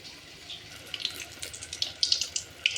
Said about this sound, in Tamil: இப்போ எண்ணெய் சூடாயிருச்சு, நம்ம எண்ணெயில் போட்டு எடுத்துக்கலாம்